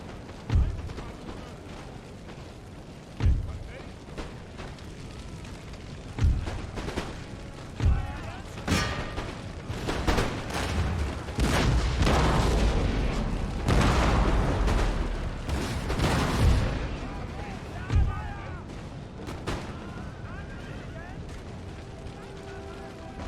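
Musket volleys and artillery fire on a battlefield in Empire: Total War, the Prussia campaign, come as repeated loud booming bursts spread through the clip over a continuous roar of battle, with someone talking throughout.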